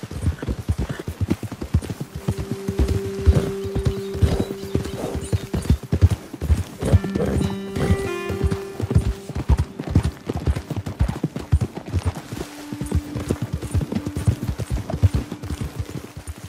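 Horses' hooves clip-clop steadily in Red Dead Redemption 2, a continuous run of close, even footfalls over a rough trail, with a horse's whinny or snort and a low sustained tone partway through.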